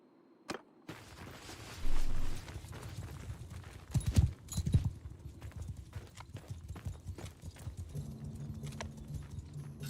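Horse hooves clip-clop on the ground in Mount & Blade 2: Bannerlord, a run of close, steady hoofbeats mixed with other game sounds, with a brief louder burst near the start.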